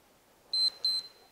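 Two short, sharp electronic beeps from a workout interval timer ring out close together in a quiet room, with no speech.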